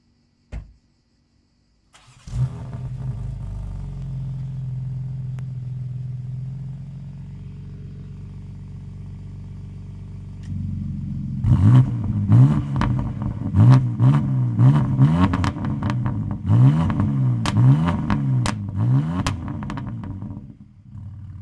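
A tuned Venturi sports car in a Monaco collection: a sharp click, the engine starting and settling into a low idle, then a long series of loud, rising and falling revs near the microphone.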